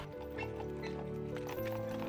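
Carriage horses in Waltenhofen pull a Kutsche, their hooves clip-clopping in a steady rhythm under a held tonal background, with a possible whinny, moderately loud and close.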